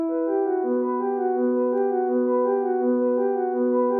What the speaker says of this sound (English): This is what the piano sounds like before you double time it and reverse it.